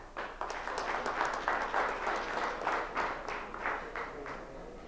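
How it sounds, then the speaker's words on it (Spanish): Audience applause at an evening event honoring the Puerto Plata provincial committee, a steady wash of clapping with faint swells, moderately quiet and without speech. "fuerte el aplauso para el Comité Provincial de Puerto Plata y todos los puertoplateños de esta noche"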